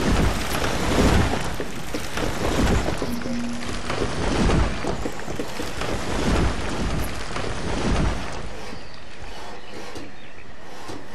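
Steady rain and rumbling thunder in the city-building game Banished, a dense continuous wash of rainfall with low rolling swells. It is loud and sustained for about eight seconds and then thins to a softer hiss.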